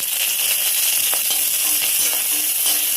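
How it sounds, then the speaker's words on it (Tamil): Curry leaves frying with onions in hot oil, giving a steady close sizzle with faint crackles and no talking. "கருவேப்பிலை பொரியட்டும். நல்லா பொரியட்டும்."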